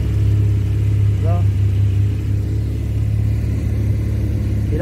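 A Ferrari supercar's engine rumbles steadily and loudly up close, with a brief rising rev partway through, while people talk over it.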